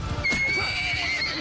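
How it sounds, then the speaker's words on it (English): A horse whinnies loudly and close in a Mount & Blade II: Bannerlord battle, one long shrill neigh lasting over a second, with hoof clatter and battle noise around it. "Alright, the horse is down."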